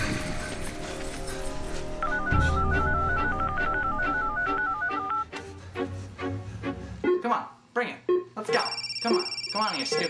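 A telephone rings and chirps in a tense comedy setting, with electronic beeping tones and busy clatter, mixed with shouting voices and other effects.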